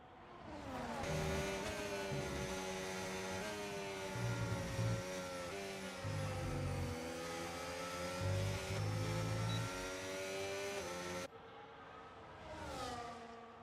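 Racing cars in the F1 video game at the Great Britain round, several engines whining and revving continuously in close pack, steady loud drone with shifting pitch and a brief pass-by at the end.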